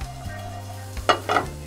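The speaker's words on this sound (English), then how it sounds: "First, I'm gonna drop in the onions in here" A faint sizzle of onions in a pan with a low hum beneath, followed by a couple of brief scraping stirs.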